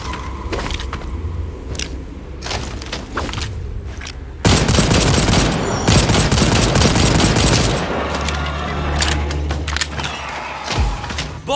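Gunfire in the video game Second Extinction as players shoot dinosaurs, loud rapid bursts of automatic shots that intensify midway into a dense, sustained barrage with thuds and booms, and no talking.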